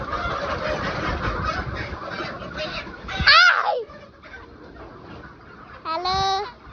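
Poultry birds in a farm shed give a brief loud honking squawk and later another, with a dense murmur of many birds clucking and chattering underneath.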